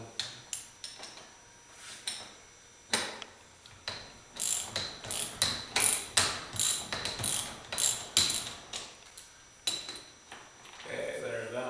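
Ratchet wrench clicking in repeated short bursts while bolts are undone on a garage door torsion spring, close and fairly loud with metallic rattles between strokes and pauses.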